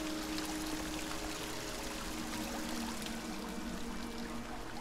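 Water flows and trickles steadily through a colorful cave in Dear Esther, a continuous close pouring wash that fills the whole stretch without speech.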